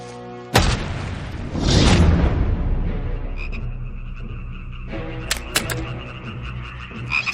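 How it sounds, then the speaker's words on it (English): Frogs croak near a river, deep repeated calls rising out of a booming, rumbling backdrop with sharp pops and swelling noise, loud and close with no talking. "And frogs came up out of the river and spread over the land"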